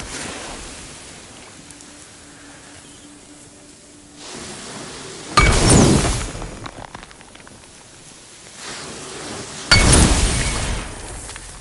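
Two loud, short bursts of metallic impact from a chisel striking a magical lock in God of War, each ringing briefly and fading, set against a quiet ambient background.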